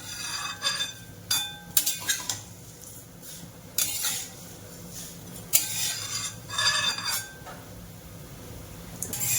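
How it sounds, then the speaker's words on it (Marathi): Vermicelli roasting in ghee in a pan, stirred with a metal spoon: intermittent scraping swirls and light clinks against the pan at irregular intervals over a soft background, close by, with no talking. "शेवई चांगली लालसर भाजत आली आहे इतकी लाल भाजायची आहे"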